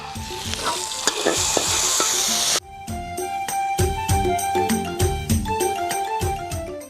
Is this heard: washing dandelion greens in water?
no